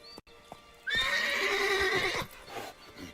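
Roach, the horse in The Witcher 3, gives one clear, close whinny lasting over a second, preceded by a few soft hoof clicks and followed by quieter movement sounds.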